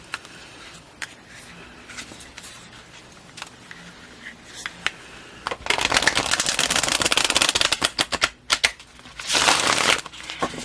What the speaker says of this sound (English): I'm not going to shuffle it too many times on camera